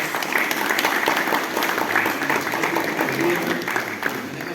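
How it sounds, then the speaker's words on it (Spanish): A seated audience applauds a regional planning official at a sustainable-development forum, a steady wash of clapping that carries on for several seconds with no voices over it. "Por favor, un fuerte aplauso."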